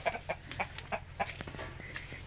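Hens and a rooster cluck in their coop, a rhythmic run of short, fairly close clucks repeating about every third of a second over a low steady hum, with no talking.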